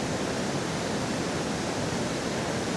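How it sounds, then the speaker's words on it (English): Creek in Alaska flowing out into salt water at its mouth, a steady broadband rush of running water, constant and fairly loud, with no voices. "there is the creek's mouth where it empties into the salt water."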